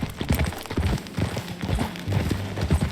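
Horse hooves trotting in Red Dead Redemption 2, a steady clip-clop of close, loud hoofbeats with no voices over them.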